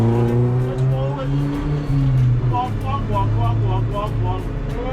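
A tractor easing forward while pulling a 100 ft long Bridgwater carnival cart, a low steady diesel engine drone with shifting tones, and people talking over it.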